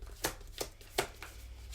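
Tarot cards being shuffled and drawn from a deck, three or four quiet, crisp riffling snaps spaced a fraction of a second apart over a low background hum, close and soft, with no talking.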